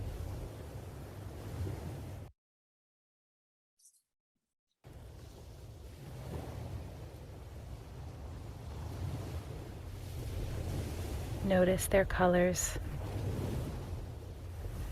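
Ocean waves surge against sea cliffs in a low, wind-blown wash of surf. It is cut off by a stretch of silence, then returns and swells louder later, while a voice speaks briefly over it.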